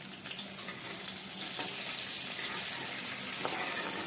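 Tempering for patra sizzles steadily in a pan just after a spoonful of water is added, a continuous close hiss that swells slightly, with no voices.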